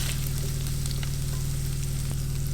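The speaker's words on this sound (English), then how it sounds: "All right, so we got our sausage all browned up." Sausage fries in a pan, a loud steady sizzle with occasional pops and crackles close by, alone and unbroken.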